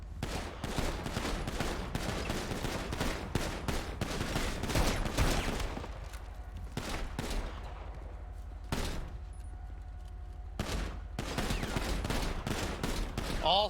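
Rapid automatic gunfire in a video game, with dense bursts of sharp shots in repeated volleys, a pause in the middle, then more bursts, loud and close.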